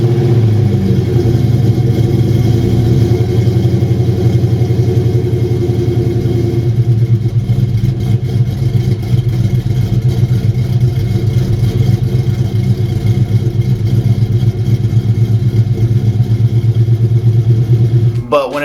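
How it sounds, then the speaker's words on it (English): A cold-started SN95 Mustang GT V8 fitted with Howard Rattler cams idles loud and close, its choppy lumpy rhythm running steadily, settling into a smoother idle partway through, with no talk over it. "at cold start, you can actually hear the cams"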